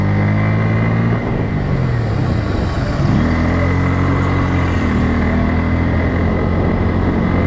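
A Bajaj Pulsar N160 motorcycle cruises at about 60 km/h, its engine droning loud and steady with a slight pitch dip and rise and heavy wind rush throughout.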